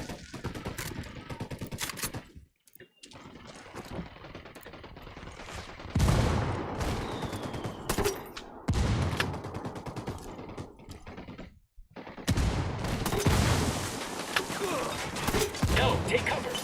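Gunfire in the Ghost Recon Wildlands video game during a stealth operation, scattered shots and bursts at a moderate distance among game ambience, with voices talking over parts of it.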